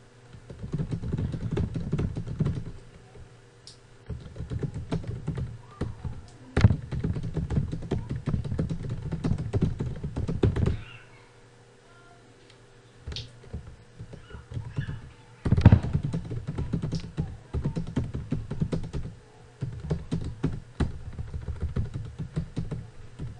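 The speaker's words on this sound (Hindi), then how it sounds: "अगर हम कुछ टाइप करते हैं" Computer keyboard typing in Microsoft Word: close, quick bursts of key clicks in several runs separated by short pauses, with a couple of louder single taps.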